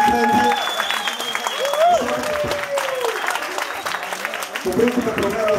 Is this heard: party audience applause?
yes